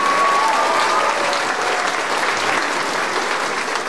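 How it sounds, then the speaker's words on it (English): Audience applause at a graduation ceremony, a steady, dense burst of clapping from a large crowd that holds at full strength for about four seconds with no voices over it. "Let's give another round of applause."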